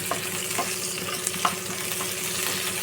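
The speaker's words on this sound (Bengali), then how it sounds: "আমি তার মধ্যে দিয়ে মশলাটা কষাবো" A paste of tomato, green chili, garlic and onion fries in a pan over lowered gas heat, giving a steady close sizzle with faint scraping stirs throughout and no talking.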